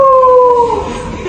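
A person imitates a wolf howl, a single loud, sustained tone that slowly falls in pitch and fades out over about a second.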